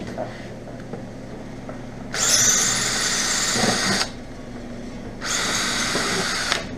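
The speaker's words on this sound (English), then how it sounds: "a couple screws here, so we'll use the drill for this" A power drill removing screws from an infrared quartz space heater whirs in two bursts, the first lasting about two seconds and the second a bit shorter, with a brief pause between them.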